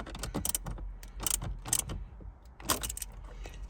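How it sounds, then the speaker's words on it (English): A ratchet snugs down the bolt of a phone mount inside a 2020-2025 Subaru Outback or Legacy, giving short bursts of sharp metallic clicks in an uneven rhythm, close and fairly loud, with no talking. "Just give it a good snug down with the ratchet, just to make sure."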